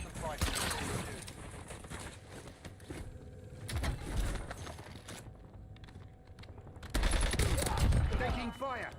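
Rapid gunfire crackles through a Call of Duty Black Ops match, dense automatic bursts coming and going with thumps and game effects, with people talking over the action.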